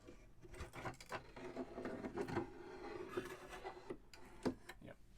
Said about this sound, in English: what I like to do is just run my pliers along the edge to make sure that I don't miss any.